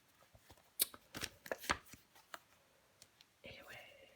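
Tarot cards slapped down and slid onto a table, a quick series of crisp taps and papery swishes close by, followed by a soft brushing slide, with faint whispered talk in between.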